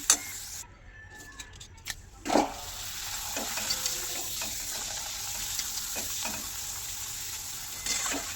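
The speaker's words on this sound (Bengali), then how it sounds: "পাঁপড়টা আগে ভেজে নিচ্ছি" Sago papad frying in a pan of oil in a home kitchen, a steady faint sizzle running throughout with a few soft clinks and scrapes near the start and no talk.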